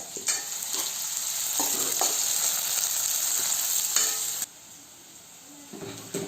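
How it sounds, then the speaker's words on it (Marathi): Chopped onion and ripe red chili fry hard on a full gas flame, giving a steady loud sizzle with a few stirring scrapes, then dropping abruptly to a quieter hiss near the end. "तर आपला कांदा चांगला फ्राय व्हायला पाहिजे"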